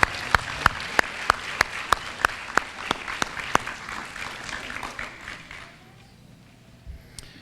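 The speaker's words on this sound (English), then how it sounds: "a big round of applause for that group of young people." Audience applause at a teen pregnancy prevention awards event, a dense crowd clapping with a few louder distinct claps in a regular beat, then fading out after about five seconds.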